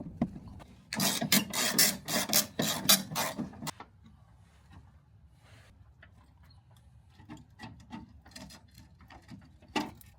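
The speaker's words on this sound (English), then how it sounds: "I'm gonna have to use a box cutter to remove some of the plastic to gain access to the bolts" A box cutter slices away damaged plastic from a snowblower scraper bar on an Ariens Path Pro, making a quick run of sharp scraping cuts up close, followed by sparse, fainter scrapes and clicks.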